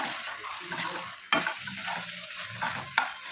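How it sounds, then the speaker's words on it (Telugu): Brinjal curry with dried fish pieces sizzles in a pan while it is stirred, with a soft steady frying hiss broken by sharp scraping clinks of the spoon against the pan, close up and with no talking. "వంకాయ అంతా కూడా ఒకసారి కలుపుకుందాము"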